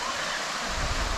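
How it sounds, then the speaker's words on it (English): A small waterfall spills into a crystal clear pool along Gibb River Road near Kununurra, giving a steady, close broadband rush of splashing water with a low rumble rising toward the end. "Little waterfall"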